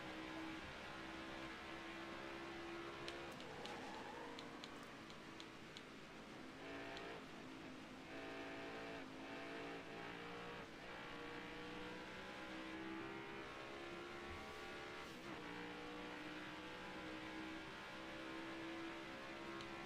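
A NASCAR Heat 5 stock car engine runs at throttle on the Gateway oval, a steady droning roar with rising and falling pitch as it lifts off and reapplies the gas, continuous and fairly close.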